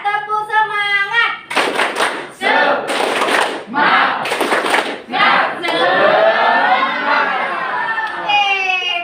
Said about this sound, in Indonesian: ice breakingnya seperti biasa, tepuk semangat